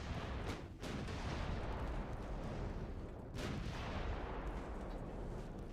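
Naval guns firing in the warship game Ultimate Admiral: Dreadnoughts, dense rumbling booms with two sharper blasts standing out, loud and continuous over a heavy battle roar, no talk.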